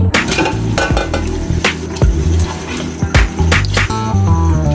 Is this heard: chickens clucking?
no